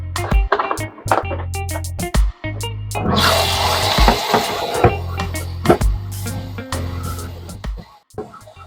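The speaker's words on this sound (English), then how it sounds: "I'm washing it in a strainer so that it doesn't soak water." Running tap water splashing over mushrooms in a kitchen strainer, a loud hissing rush broken by clattering knocks and short pauses as the strainer is shaken and moved.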